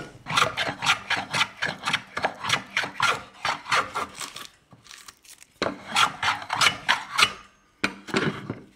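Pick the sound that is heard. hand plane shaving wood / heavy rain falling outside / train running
hand plane shaving wood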